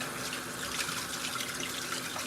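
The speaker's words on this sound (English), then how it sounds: "I rinse my hands every time" Tap water runs steadily into a sink as hands are rinsed during cooking, a continuous close hiss with no talking.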